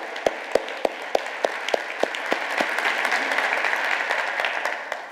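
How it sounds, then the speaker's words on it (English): Applause from a conference audience at a higher-education keynote, starting with a few distinct claps that quickly swell into steady, moderately loud clapping from the room before slowly thinning out. "Can we get another round of applause for that extraordinary work?"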